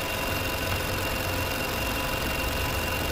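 A 2016 Chevrolet Cruze with a 1.4L engine and a P1101 airflow fault idles, producing a steady, fairly faint, low mechanical hum with a constant rumbling texture and no voices.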